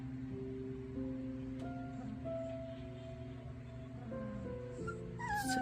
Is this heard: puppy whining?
yes